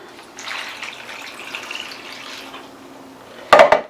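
Vinegar and water poured into a saucepan while making Mexican-style habanero hot sauce: a steady splashing pour lasting about two seconds, followed by a short, sharp clank of the container.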